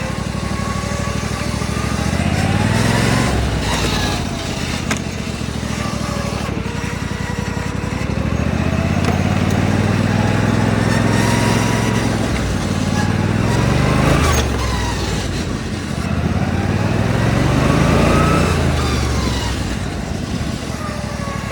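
A racing lawn mower fitted with a swapped-in V-twin engine drives hard nearby, its engine note rising and falling through repeated revving and gear changes, with people talking over the continuous roar.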